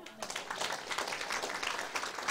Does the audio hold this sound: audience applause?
yes